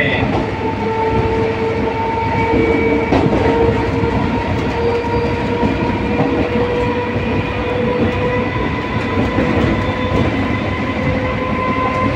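An EMU local passenger train bound for Howrah rolls past at close range, a loud, steady roar of wheels and carriages with faint clickety-clack and whining tones, continuous for the whole stretch.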